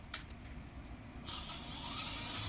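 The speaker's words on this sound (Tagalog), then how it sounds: "nag-click na yung relay" One sharp click sounds as the relay in an AV-502B audio amplifier engages at power-up during a repair, followed by a faint rising hiss in a quiet room.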